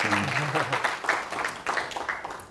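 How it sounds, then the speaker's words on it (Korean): Church congregation clapping to welcome a guest speaker, bursts of applause mixed with a voice talking over it, moderately loud and uneven. "우리 박수로 좀 환영할까?"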